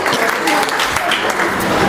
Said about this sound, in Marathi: खूप छान कॉमेडी केली तुम्ही जोरदार टाळ्या यांच्यासाठी